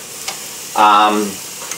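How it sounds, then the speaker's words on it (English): Boiling rice in a pot gets one quick stir, a brief bubbling, hissing swish lasting about half a second between quiet kitchen background. "The rice is boiling. So, give it one quick stir"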